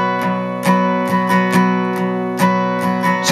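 An acoustic guitar strums the chords of a song, starting on G5, with clear ringing strums repeating in a steady pattern, played close and alone.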